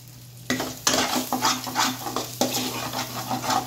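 Kachuri filling is stirred and fried in a pan: a low sizzle runs underneath while a spoon scrapes and clacks in quick, irregular strokes close up, after a quiet start.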